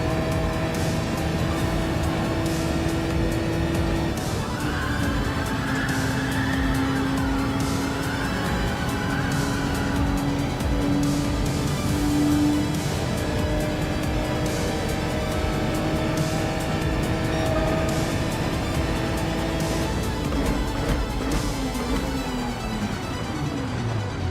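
Race car lapping Big Willow in Gran Turismo 7 during an online series round, a steady engine drone with pitch rising and falling through gear changes and corners, tire noise layered in, continuous and without speech.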